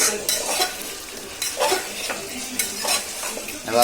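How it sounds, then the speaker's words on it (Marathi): A spatula stirs and scrapes through thick masala with potatoes in a sizzling pan, with repeated strokes over steady frying noise, close by. "तर ते मसाला सगळी काही लागणार म्हणून लगेच मिक्स करून घेऊ"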